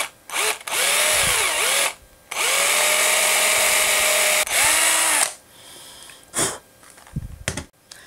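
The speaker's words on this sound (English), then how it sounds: "I've got to drill out for the tie on eye and the belly eye." A power drill whines loudly in several bursts while drilling holes in a frog popper fishing lure body, its pitch rising and falling as it bites and eases off, with quieter handling clicks between runs.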